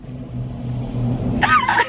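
A car engine rumbles low and steady from inside the cabin in Chicago, a quiet interior hum, followed by a brief louder vocal sound near the end.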